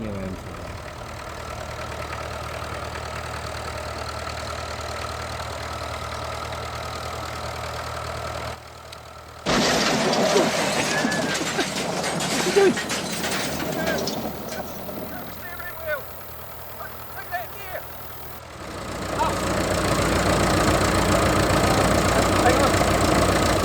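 A tractor engine running in an English countryside field after the tractor has ended up in a hedge, a steady low idling rumble with knocking, rising and dropping in loudness, with people talking over it.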